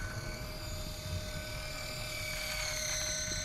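A small RC crawler's winch whines steadily and strains to pull a stuck truck out of water on a sandstone trail, a close, continuous high motor tone with no talk.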